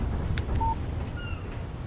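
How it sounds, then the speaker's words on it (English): A brief phone text message alert in the video game Alan Wake, a couple of short soft electronic tones over a low rumbling ambient background, with no talking. "Text message from Barry."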